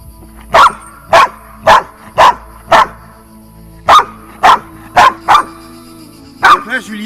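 A dog with a history of biting barks loudly and close during an aggression test, a steady series of about a dozen sharp, evenly spaced barks ending in a shorter yelp-like burst.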